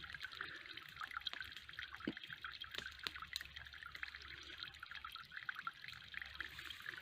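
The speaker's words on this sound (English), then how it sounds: "so now it's just coming out as a trickle" Filtered water trickles steadily out of a tightly woven cloth filter bag into a billy can at a campsite, with a continuous close splashing and scattered drip clicks, and no voices.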